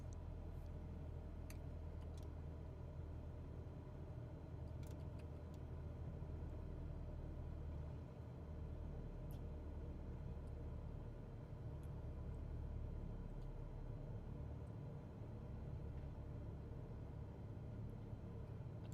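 Steady low engine drone of a Cessna 172 with the throttle pulled back during a simulated approach to a hidden airstrip, a continuous rumble with faint ticking on top and no talk.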